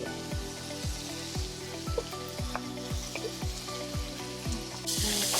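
Garlic sizzles and crackles in a hot wok, with a steady frying hiss under regular low thumps repeating about twice a second.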